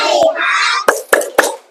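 Children in a classroom perform a rhythmic focus clap, with sharp claps in a short patterned burst after a stretch of chanting voices.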